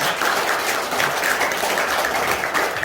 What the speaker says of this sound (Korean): 지금 박수를 한번 여러분들께서 주시면 좋겠습니다